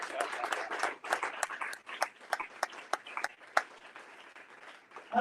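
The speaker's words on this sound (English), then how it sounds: "Give yourself a round of applause." Audience applause after a speaker invites a room of guests to clap for themselves at an event, a burst of scattered claps with sharp individual hand strikes that thins out toward the end.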